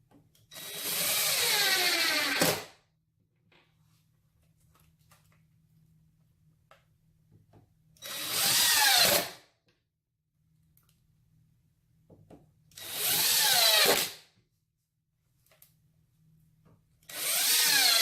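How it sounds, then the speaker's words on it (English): Power driver tightening an H6 screw through a chrome shield into an end panel during furniture assembly, four loud whirring bursts of about two seconds each, with quiet pauses between them. "Insert your H6 screw and tighten."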